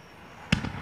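A single firework bursts once in the distance with a sharp thump and a short echo, alone against quiet outdoor background.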